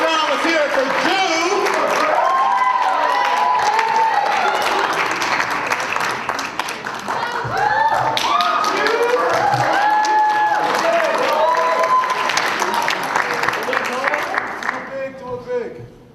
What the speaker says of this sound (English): let's give a big round of applause for all the opponents